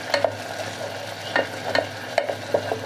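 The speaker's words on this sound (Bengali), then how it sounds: "সস দিয়ে ভালো করে নেড়ে মিশিয়ে নিচ্ছি আমি" Soy sauce being stirred into a garlic cream sauce in a frying pan: a few sharp spoon scrapes and taps at irregular intervals over a steady low sizzle, close by with no talking.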